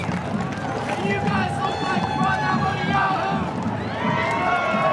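A parade crowd at the Calgary Stampede cheers and whoops for Conservative leader Pierre Poilievre riding by on horseback, a steady loud roar of voices with whistles and shouts, under nearby talk.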